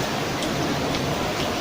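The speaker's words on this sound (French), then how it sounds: "Voilà, il pleut, il pleut." Steady, dense rain falling in French Guiana, an even hiss without pauses that fills the whole moment with no voices over it.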